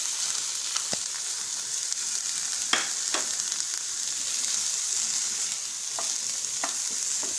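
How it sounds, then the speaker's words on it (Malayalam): Chopped onion, ginger, garlic and green chili sizzle steadily in hot coconut oil for a Kerala-style chicken cutlet, with a few sharp stirring scrapes breaking through the even hiss and no voices. "ഇനി അതിനകത്തേക്ക് നമ്മൾ അരിഞ്ഞു വെച്ച സവാള, ഇഞ്ചി, വെളുത്തുള്ളി, പച്ചമുളക് നമുക്ക് എല്ലാം കൂടി ഒരുമിച്ചിട്ട് അങ്ങ് വഴറ്റാവേ."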